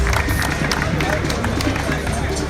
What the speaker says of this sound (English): Please, let's have another round of applause for Rangers International.